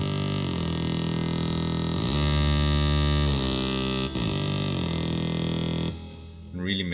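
Thick acid saw-wave synth bassline with reverb and glide, droning loud and continuous as its pitch slides between notes, then thinning out near the end.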